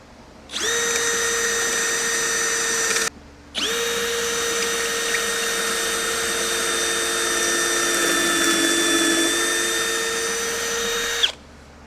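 A power drill with a collared bit set to 1.5-inch depth runs in two sustained bursts, boring pocket holes in 1.5-inch scrap wood, a high steady whine with a brief stop between, the pitch dipping slightly as it bores.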